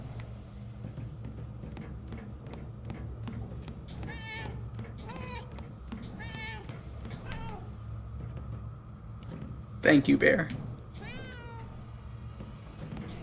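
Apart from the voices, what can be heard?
cat meowing in video game Murdered: Soul Suspect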